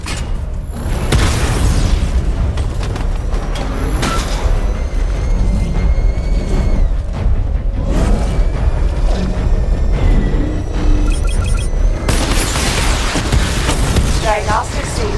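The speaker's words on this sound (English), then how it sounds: "Missile barrage level 2 ready." Missile barrage explosions in Batman: Arkham Knight: loud, repeated booms and bursts with whooshes and mechanical game effects, dense and continuous, with in-game voices now and then over the blasts.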